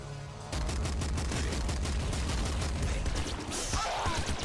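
Enemies trading rapid gunfire in Nuclear Throne, a dense stream of punchy game shots that runs continuously at a loud, steady level after a short quiet lead-in.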